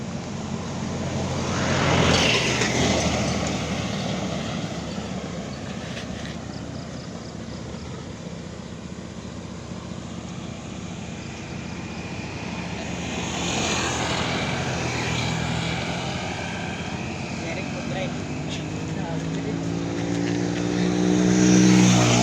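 A truck passes on a rural road, its engine drone building as it nears, fading through the middle and rising again loudly toward the end, with no talk over it.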